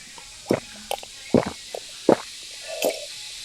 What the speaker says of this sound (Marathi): तर आता थोडं पाणी पितो आधी मी